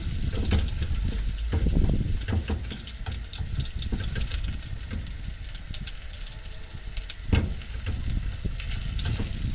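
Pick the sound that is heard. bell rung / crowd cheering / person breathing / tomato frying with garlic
tomato frying with garlic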